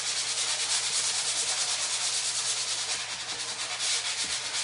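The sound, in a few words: light sanding of a wooden riser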